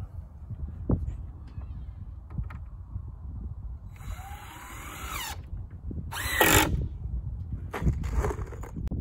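Power drill driving a few small screws into a DIY bulk pig feeder, with short whining bursts of the motor spaced a second or two apart over quiet shop background.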